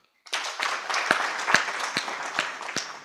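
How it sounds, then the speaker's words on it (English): Audience applause for Deputy Speaker Thomas Tayebwa at a social protection dialogue forum, a steady wash of many hands clapping with a few sharper individual claps standing out, starting abruptly and continuing throughout. "he deserves a clap"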